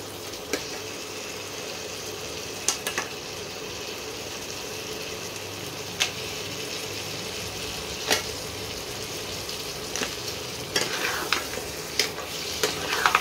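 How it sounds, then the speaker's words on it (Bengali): Crabs are fried and stirred in an oily spice masala, a steady close sizzle with scattered scraping clicks of the spoon against the pan, no voices. "কাঁকড়াগুলো দিয়ে মশলার মধ্যে দিয়ে কষাতে হবে"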